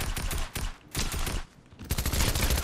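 Rapid Fortnite gunfire in loud clustered bursts separated by brief lulls, with a heavier volley near the end, close and dominant with no talk.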